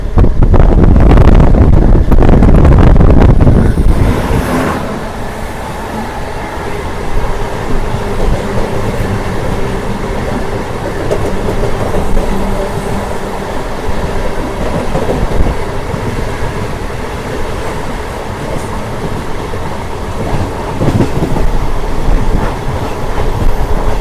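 A passenger train bound from Anantapur to KSR Bengaluru rumbles loudly along the track, with rhythmic clickety-clack of the wagons and heavy wind buffeting early on before settling into a steady roar.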